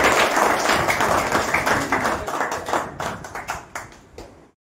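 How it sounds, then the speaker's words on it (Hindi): An audience at a Prahar Janshakti Party gathering in Badnera claps loudly and steadily, then the applause thins into scattered individual claps that fade to silence. "एक बार सिर्फ जोरदार ताली बजाएं"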